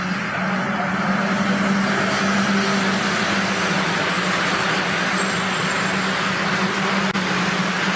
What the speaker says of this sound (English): all these cars coming round in formation like they're going to be doing